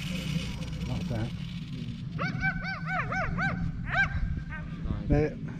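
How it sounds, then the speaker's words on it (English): A dog barks and yips excitedly near an 8S-powered Arrma Outcast RC car, a run of sharp repeated barks in the middle with people talking underneath. "The dog wants to chase it."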